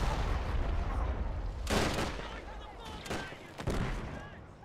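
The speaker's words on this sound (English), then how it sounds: "this mortar is going to run out of ammo soon." Mortar rounds firing in a German Revolution 1919 strategy game battle between Freikorps and Spartacists: three or four muffled booms over a dense, constant battlefield din.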